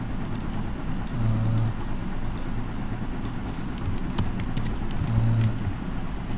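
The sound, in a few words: pressing keys on a computer keyboard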